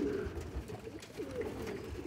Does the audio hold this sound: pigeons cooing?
yes